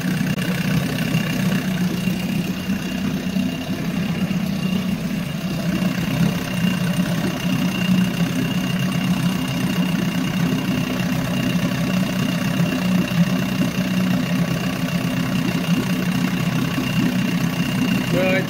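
An old 34-year-old Evinrude outboard motor idles steadily at operating temperature, a continuous low throbbing hum with even, unchanging loudness for the whole stretch, close by and without talk.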